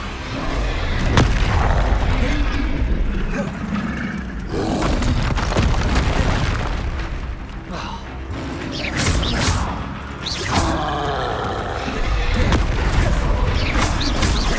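Booming blasts and crashing impacts from the Confringo explosion spell in Hogwarts Legacy, repeated in bursts throughout a busy, loud stretch of combat with rumbling, creaking mechanical noise between hits.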